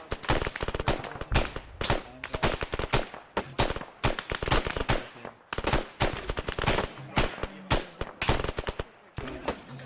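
Heavy gunfire in a multiplayer ARMA 3 military operation, dense rapid automatic bursts and sharp single shots cracking in clustered volleys throughout, loud and close with brief gaps between strings of fire.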